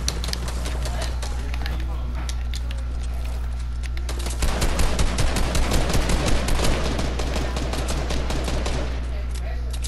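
Fortnite gunfire: rapid automatic bursts, close and loud, over a constant low game hum, with players talking.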